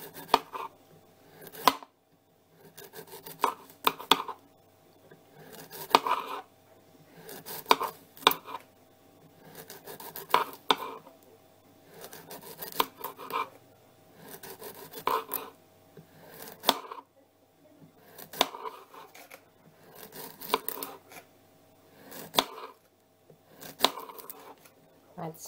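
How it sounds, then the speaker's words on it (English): Courgettes sliced thinly with a knife on a board, repeated bursts of quick, close chopping taps separated by short pauses, with faint talk in between. "we're going to cut the courgettes. I'm going to cut them really thinly."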